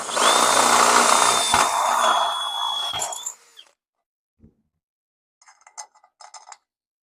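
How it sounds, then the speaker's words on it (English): A drill spins a step bit into raw steel for a custom Harley air cleaner, a close, steady whirring grind for about three seconds that then cuts off, followed by a few faint clicks and light taps. "I'm going to grab a step bit, and I'm going to bring this up to 1/4 of an inch."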